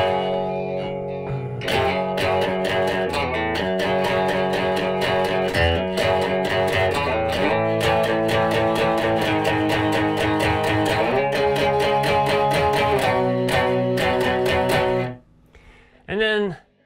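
Electric guitar playing a song riff close to tempo, a steady, loud run of repeated notes with distortion and effects, ending in a brief separate note after a short pause.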